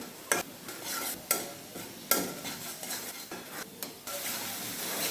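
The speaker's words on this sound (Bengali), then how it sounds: "আমি মশলাটা কষাই নেব" Spice paste masala fries in oil in a pan for a fish curry, a soft continuous sizzle broken by several sharp scraping stirs of a utensil against the pan, close and without talk.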